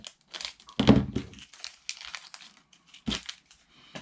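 Crinkly plastic packaging from a Tonic Studio craft kit being cut open, with several sharp crackling rustles, one loud burst early and another near the end, close up with no talk.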